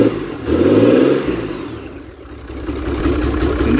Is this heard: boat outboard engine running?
yes